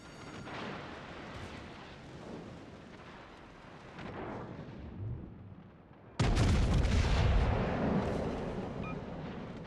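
Naval guns on a warship in a tier 7 naval battle game fire shells, with ongoing distant booms and rumble, then a sudden loud, close salvo blasts and rolls out into a heavy sustained roar.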